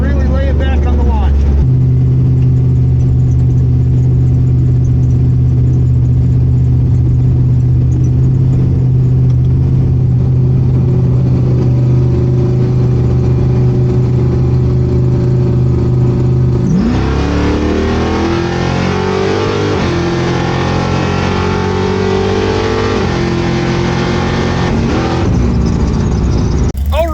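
A drag race car idles with a steady low drone, then launches hard around the midpoint, its engine revving up and pulling loud and close as it accelerates down the strip.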